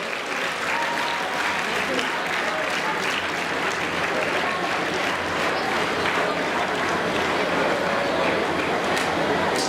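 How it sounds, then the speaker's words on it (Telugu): Audience applauding at an indoor stadium event, a dense, steady wall of clapping that stays loud and even for about ten seconds, with some crowd noise mixed in. "Encourage with claps."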